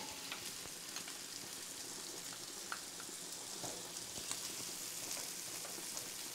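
Butter melts and sizzles in a pan with vegetables and fats for a dirty Alfredo sauce, a steady bright crackling hiss that carries on evenly, close and fairly quiet, with no talking.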